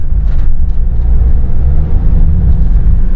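Motorhome on a Fiat or Mercedes chassis pulling hard at full throttle, a steady loud low engine drone with road rumble heard from inside the cab, continuous for the whole stretch.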